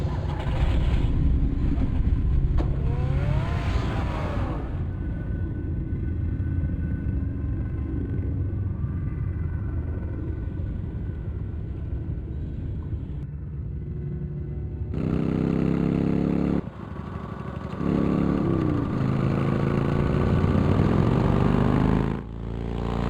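The Batmobile's engine rumbles in the Batman Telltale Series video game, a low, continuous growl that surges and revs louder near the end.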